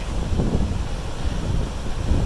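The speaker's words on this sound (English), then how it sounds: "this is the Whitewater River, I believe." Whitewater River in California flowing strongly in season, a steady broadband rush of water heard close by with some wind buffeting the microphone, no talking.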